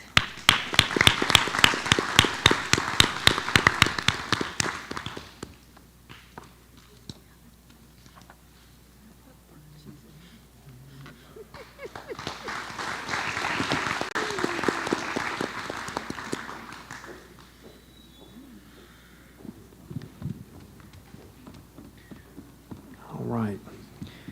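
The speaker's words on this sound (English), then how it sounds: "Let's give her a round of applause." Audience applause at a school board meeting for a graduate comes in two separate rounds of steady, moderately loud clapping in a room, with a speaker talking between them.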